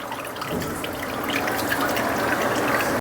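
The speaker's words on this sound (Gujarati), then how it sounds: "આ રીતે કોટનના કપડામાં લઈને આપણે પાણી કાઢી લેવાનું" Continuous trickling and dribbling of water as liquid is wrung out of grated cabbage in a cotton cloth for Manchurian, steady and close, with no talking.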